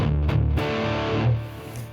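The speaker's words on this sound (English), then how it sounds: "Put in a really nasty distortion. I've used a Friedman amp here." Electric guitar in drop D tuning played through a Friedman amp with heavy, nasty distortion, chunky sustained low riffs ringing loud and up close, with no voices.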